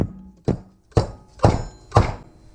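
Four sharp metallic taps a half-second apart, a 48 mm seal driver hammered onto a fork seal of a 2012 KTM 150 SX, each knock ringing briefly, close and steady.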